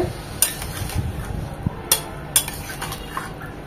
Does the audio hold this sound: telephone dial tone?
no